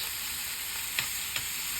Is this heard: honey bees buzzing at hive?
no